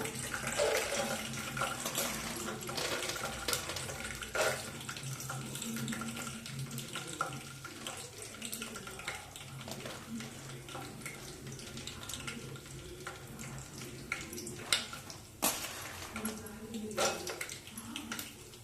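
Peanuts sizzling in hot oil in a pan for tamarind pulihora, a steady dense hiss of frying with occasional sharper crackles and pops, close and continuous, with no talking.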